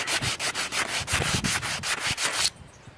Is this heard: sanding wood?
yes